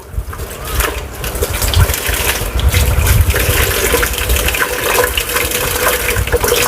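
Tap water gushes loudly and continuously over beef offal being washed piece by piece by hand, with splashing and shifting flow close up throughout.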